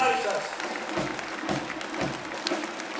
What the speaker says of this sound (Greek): Χειροκροτήστε αυτά τα παιδιά.